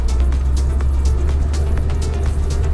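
A Lada Niva with ground clearance raised by 3 cm drives steadily behind another car, with a loud, constant low engine and road rumble heard close up from inside.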